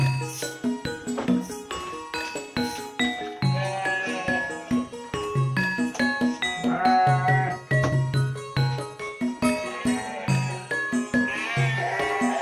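Sheep bleating repeatedly in a pen on a hillside livestock farm, many overlapping calls close by and fairly loud, with faint jingling bells among them and no talking.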